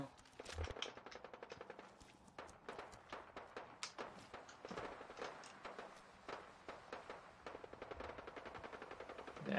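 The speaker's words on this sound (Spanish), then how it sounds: "Ahí han habido disparos." Rapid bursts of video game gunfire in Fallout 4 crackle repeatedly, fairly faint and distant, in irregular volleys throughout.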